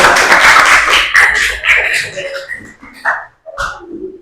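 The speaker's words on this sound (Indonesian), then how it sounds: "Tepuk tangan dulu." A classroom breaks into loud applause after group presentations; the dense clapping fades within a couple of seconds as voices take over.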